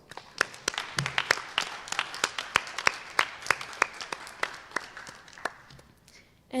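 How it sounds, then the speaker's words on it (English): A small audience at a National Honor Society induction claps for the new inductees, with a sparse, uneven run of distinct claps that thins out toward the end, moderately close in a quiet room. "Give yourselves a round of applause."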